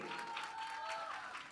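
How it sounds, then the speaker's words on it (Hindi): Audience applause for actor Varun at a film teaser launch event, a faint, steady wash of clapping from a crowd, heard briefly with a tonal hum running underneath. "एक बार जोरदार तालियां वरुण के लिए"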